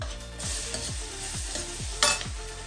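Onions fry and sizzle in a kadai while a spoon stirs them in a quick regular rhythm of about five scrapes, with a sharper clack near the end, close and clear with no talk.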